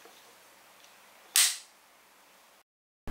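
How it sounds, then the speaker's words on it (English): A single sharp clapperboard clap rings out near the start, loud and crisp, followed by a short decay and then silence. "Clapperboard test."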